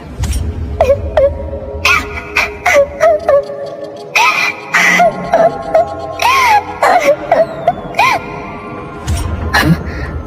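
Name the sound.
crying sound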